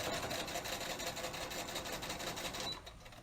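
A sewing machine runs a steady, fast whir while stitching a fabric face mask, then eases off and quiets just before the end.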